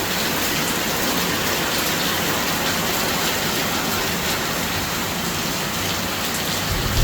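Heavy rain pours down in a dense, constant roar, loud and close, with no breaks and no voices.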